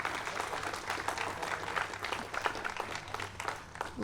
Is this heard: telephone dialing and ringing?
no